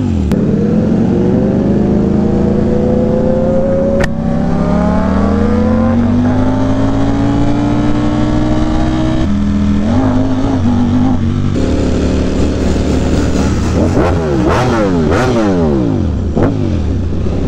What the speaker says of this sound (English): All you hear is dry clutch on that thing. No exhaust.